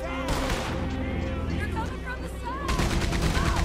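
Rapid gunfire from a Red Dead Redemption 2 shootout, with dense overlapping shots that swell louder near the end, set over a steady game soundscape and some voices.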